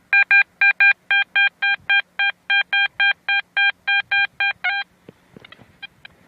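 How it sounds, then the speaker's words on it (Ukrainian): A metal detector gives a rapid series of about fifteen identical loud beeping tones while sweeping for coins and silver over a field, then falls quiet, leaving faint scuffing and handling noises. "Такий от замечательний сигнальчик."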